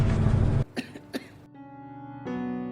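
A woman in a film coughs a couple of short sharp times between stretches of dramatic background music, the coughs brief and fairly close.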